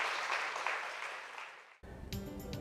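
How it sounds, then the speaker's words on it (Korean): An audience at a science lecture-concert applauds as a visiting professor is introduced, with a dense, full burst of clapping that fades and then cuts off abruptly partway through. "큰 박수로 맞아주시기 바랍니다"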